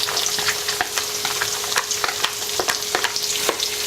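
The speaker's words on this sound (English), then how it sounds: "fry it till it is not too soft but transparent enough" Onion and garlic sizzling as they fry in a wok over moderate heat, a steady crackle with sharp pops and stirring scrapes throughout, close and fairly loud, with no talking.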